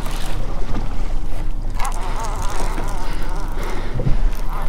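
Wind buffets a boat out fishing, a loud rumbling low roar with gusty rushing across the whole stretch, along with water noise and faint voices.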